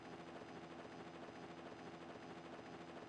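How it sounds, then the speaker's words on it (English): A transport helicopter approaches in the video game Mega Man X5, its rotor making a steady, continuous whir with an even pulsing chop that holds the same level for about three seconds, moderately loud and with no voices. "Their transport chopper is rapidly approaching."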